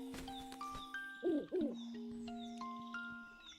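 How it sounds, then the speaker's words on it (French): An owl in the Nintendo Switch remake of Link's Awakening hoots twice in quick succession, the two calls clear and close above steady sustained game-music tones. "Voilà le hibou là. Je l'entends arriver de loin."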